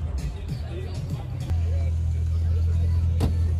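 Car engines idling and rumbling at a busy tuning car meet, a steady low drone that swells louder midway and holds, with crowd chatter and voices in the background.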